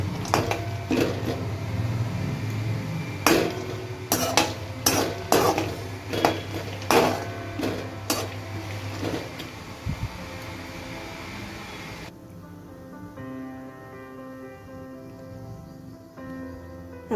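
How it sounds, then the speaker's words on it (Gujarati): Almonds roasting in ghee in a pan, with a quiet, steady sizzle and repeated clinks of a spoon against the metal over the first twelve seconds, fading to a low hum at the end. "આ હું ઘીમાં બદામ રોસ્ટ કરું છું।"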